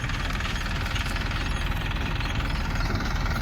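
A tractor engine chugs steadily nearby with a loud, rumbling, knocking rhythm that continues without a break.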